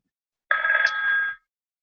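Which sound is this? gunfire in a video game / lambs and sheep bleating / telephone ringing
telephone ringing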